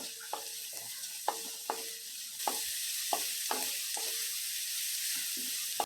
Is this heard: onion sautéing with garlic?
yes